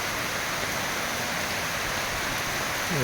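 Steady rain pours down outdoors in a Tamil village setting, a dense, even hiss of drops on surfaces that holds constant and fairly loud for the whole span with no voices.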